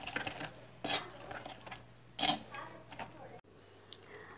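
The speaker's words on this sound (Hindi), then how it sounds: "अब इसे मैं अच्छे से मसल के इसका सारा जूस निकाल लेती हूँ" Boiled tomatoes are mashed in a pot to squeeze out their juice, giving a few sharp clinks and scrapes of a masher or spoon against metal amid quiet squelching, faint and close.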